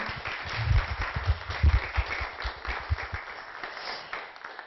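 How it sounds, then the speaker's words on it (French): An audience at a conference on the origins of the universe applauds the speaker, a moderate round of clapping that swells early and then thins out gradually. "je pense qu'on peut l'applaudir pour sa prestation"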